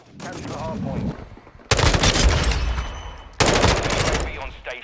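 M4 rifle fire in Modern Warfare 2 comes as two loud, dense automatic bursts, each a rapid stream of shots lasting over a second, with a quieter stretch of gameplay noise before them.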